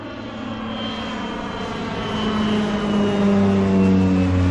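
A crop-spraying airplane's steady, droning propeller engine hums loudly throughout, swelling slightly toward the end as it passes close overhead.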